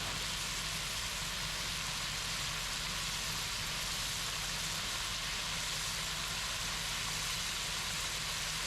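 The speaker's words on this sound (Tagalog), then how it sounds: "dito wala nang tigil yung ulan" Steady rain falls continuously in the Philippines, a constant hiss of drops with no voices, fairly soft and even throughout.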